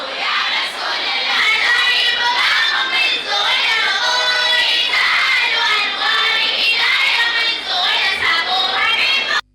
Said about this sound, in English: A mammoth crowd thronged the Rampal Township Stadium